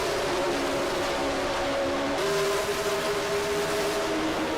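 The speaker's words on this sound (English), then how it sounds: "Take a look and hear these beautiful cars." A NASCAR-style race car engine drones at high revs without a break during the Coca-Cola 600, the pitch stepping up partway through as it accelerates, loud and close like onboard.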